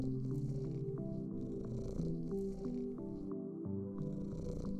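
Steady, close, soft cat purr in the video game Sunblaze as the cat is petted, continuous rumbling with faint higher bursts over the top, no voices.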